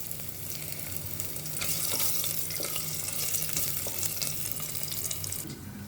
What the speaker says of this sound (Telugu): ఈ నెయ్యిలో ఇప్పుడు మనం ఫస్ట్ అల్లం బాగా ఫ్రై చేసుకోవాలి.